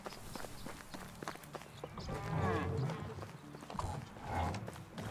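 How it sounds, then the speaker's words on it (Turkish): Cow mooing in the Medieval Dynasty video game, with a couple of drawn-out low moos amid trampling hooves and footsteps, fairly close, with someone talking quietly at times. "Az var, inek var."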